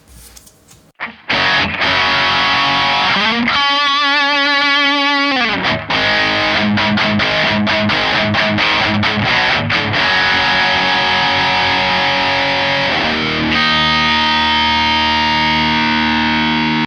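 Audio Assault Grindmachine plugin's crusher distortion on a heavy music loop: loud, gritty, saturated tones with a brief resonant sweeping passage, then choppy rhythmic hits and a sustained rough tail, with no talking.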